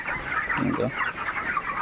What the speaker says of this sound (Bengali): এটা নিয়ে দৌড়ালেই কিন্তু মুরগি দৌড়ে যায়